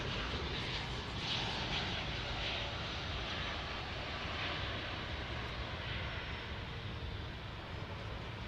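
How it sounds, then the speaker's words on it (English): An Airbus A321neo jet sits on runway 18 right at Dallas Fort Worth, its engines giving a faint, steady, distant broadband roar throughout. "As we turn to runway 18 right and get our A321neo."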